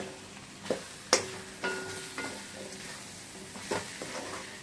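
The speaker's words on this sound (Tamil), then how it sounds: "இப்போ இந்த முருங்கைக்காய் தக்காளி எல்லாம் ஒன்றா போட்டு வதக்கிக்கிட்டு உப்பு காரம் போடணும்." Tomato, onion and drumsticks sautéed in a pan, with soft sizzling under repeated sharp scrapes and clinks of a spoon stirring against the metal, close and without talk.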